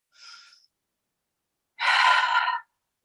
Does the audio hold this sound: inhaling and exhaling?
yes